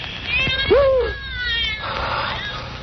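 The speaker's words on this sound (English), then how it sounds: "The cat's come back to the island." A cat meows once, loud and close, with a rising-falling cry, followed by a quieter drawn-out mew.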